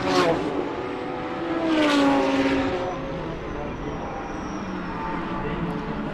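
Porsche race cars at speed on a circuit during a national racing festival, engine notes swelling and fading as cars pass, one clear high whine sliding downward, with a commentator's voice running over the track noise.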